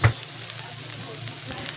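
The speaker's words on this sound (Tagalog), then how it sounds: "Haluin lang natin itong mabuti at hayaan natin itong bahagyang maluto bago natin isunod yung iba pang sangkap." Cabbage sizzles and fries in a pan with a soft steady crackle, opened by a brief clatter as it is stirred, close and moderately loud.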